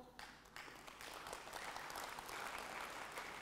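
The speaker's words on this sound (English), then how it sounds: "Clap in a different way." A business forum audience claps together in a dense, continuous burst of applause that builds slightly and stays steady, heard from within a large hall.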